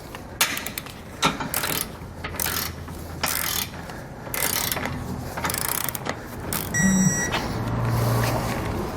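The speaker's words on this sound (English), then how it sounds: "We're going to tighten and then torque our hardware to the specifications and the instructions." U-bolts on a Roadmaster crossbar-style base plate kit being tightened with a 3/4 inch socket and ratchet on a 2018 vehicle, giving repeated close metallic ratcheting clicks and clunks in short bursts, with no talking.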